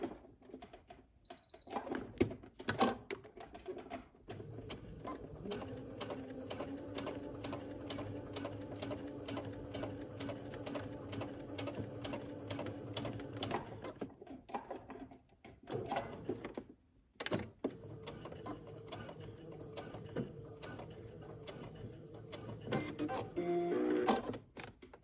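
A sewing machine stitches fabric on a beginner's McCall's 8138 sewing project, running in a steady fast mechanical rhythm for long stretches, with brief pauses and restarts, fairly quiet and alone.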